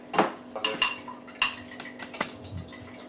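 Eggs beaten in a bowl while baking a cake, a utensil clinking against the bowl in a quick, uneven run of sharp taps, close and fairly quiet, with no talking.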